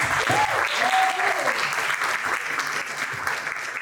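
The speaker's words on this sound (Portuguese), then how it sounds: "uma salva de palmas para o público" A crowd claps in a steady, dense wash of applause at a night talk show, with a few cheers and voices rising over it near the start.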